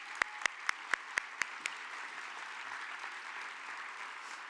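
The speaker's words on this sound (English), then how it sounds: "I do want to start by giving you a round of applause" A small audience at a community violence intervention convening gives a brief round of applause: a handful of distinct claps in the first second and a half, then quiet room tone.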